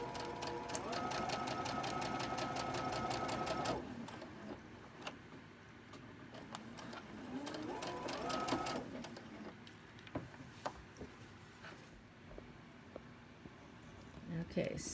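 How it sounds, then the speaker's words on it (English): A sewing machine stitches a cotton quilt block in two bursts of fast, even whirring, a longer run at the start and a shorter one midway, with quiet pauses and light handling clicks between. "continue sewing it from the part that I stopped up here"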